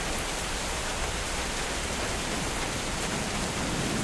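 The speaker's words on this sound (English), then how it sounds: "now we've actually got hail here too" Hail and rain pour down steadily outside a football match-viewing studio, a dense, even, close roar of drumming with no breaks.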